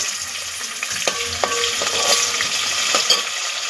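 Tomatoes and whole garam masala spices frying in a pan for egg biryani, with a steady hiss of sizzling oil and a few sharp scrapes and clinks of a spoon stirring, close and continuous.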